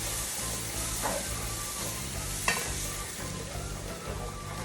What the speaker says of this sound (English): We're just gonna continue to allow this to stir, reduce down, and we're gonna have ourselves some nice brown gravy.